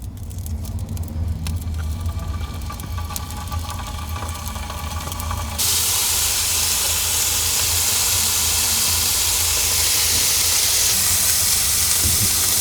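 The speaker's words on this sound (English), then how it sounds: "that chicken sizzling is super loud" Chicken frying in an oiled pan while cooking inside a car gives a steady, close sizzling hiss that jumps sharply louder partway through and stays loud.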